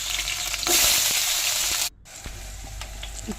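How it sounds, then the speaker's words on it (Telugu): Green chillies and onions frying with cumin and mustard seeds in hot oil, a loud close sizzle that swells and then drops sharply after a short gap, with light scraping taps of a stirring utensil. "అందులో పచ్చిమిర్చి ఉల్లిపాయ ముక్కలు వేసుకొని ఫ్రై చేసుకోవాలి"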